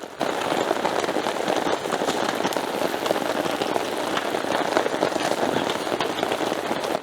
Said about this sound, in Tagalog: Ayan oh, lakas ng ulan.